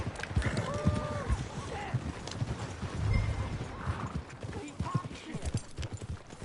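Horse hooves clip-clop steadily through Red Dead Redemption 2 on PS4, a rhythmic trotting beat under game ambience, with a voice speaking over it and a snorting whinny near the end.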